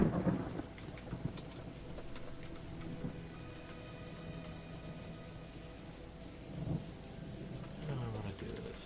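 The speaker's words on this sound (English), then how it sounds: "Started raining." Rain and thunder in the video game Dwarf Fortress: a soft, steady rain hiss with low rolling rumbles of thunder swelling at intervals, fairly quiet and with no talking.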